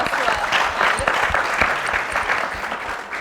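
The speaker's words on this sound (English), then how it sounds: "So a round of applause to our panelists." Applause from a conference audience for a panel discussion, a steady burst of clapping lasting a few seconds.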